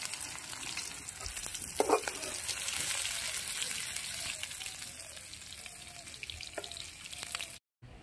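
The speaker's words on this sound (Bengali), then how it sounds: "চিংড়ি মাছগুলো ভাজা হয়ে গেছে, লাল লাল করে ভেজে নিয়েছি" Shrimp frying in hot oil, a steady close sizzle with a few louder crackles and stirring scrapes, ending abruptly in silence.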